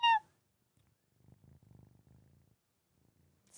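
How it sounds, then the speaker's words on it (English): Cat giving a sharp little meow at the start, then a faint, low purr rumbling in short pulses near the microphone, with another brief high meow at the end. "The tiny little meow."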